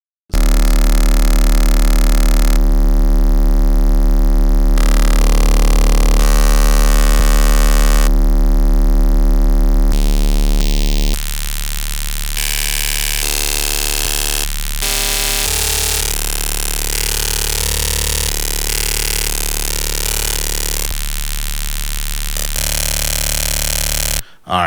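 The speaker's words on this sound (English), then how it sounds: "when you have the shape really low and DC shift on with 3 bits and you turn on the amp, you get some crazy sounds" Heavily bit-crushed Ableton Redux bass with the shape set very low, DC shift on and 3-bit depth, run through an amp: a loud, continuous buzzing, distorted synth tone whose harsh timbre shifts abruptly in steps over about 25 seconds, with no voice.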